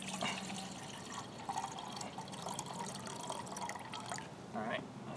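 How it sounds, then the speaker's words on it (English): Lake water trickles and splashes into a water bottle being refilled outdoors, a continuous close wash of liquid with small drips and gurgles, with a voice talking over it. "Went down to the lake and refilled my water bottle."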